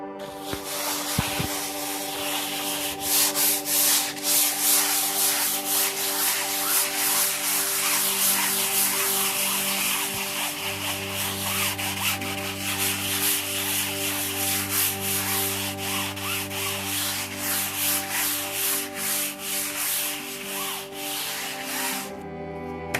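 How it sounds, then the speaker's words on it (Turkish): Steady, close rasping of sandpaper scrubbing a dried gesso coat on canvas, continuous for most of the stretch with a low hum running underneath. "Şimdi arkadaşlar zımpara atacağız."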